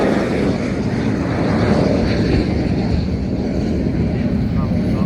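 A WWII propeller warbird, a Grumman Avenger or Vought Corsair, flies a curved approach at an air show, its engine a steady broad drone with wind rumble while a commentator speaks over it.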